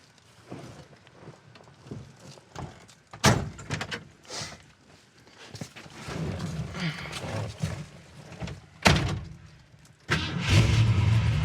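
A 1970 Ford Mustang Mach I V8 cranks and fires up, with scattered clunks and rustling before the engine catches and settles into a rough, rumbling idle toward the end.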